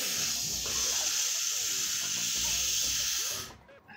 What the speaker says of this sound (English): turned on the air compressor